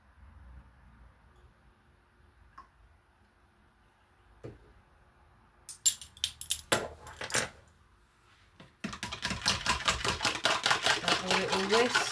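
Egg and vanilla whisked in a bowl: after a quiet start with a few light knocks, fast, rapid clattering strokes of a whisk against the bowl build up and keep going, close and fairly loud.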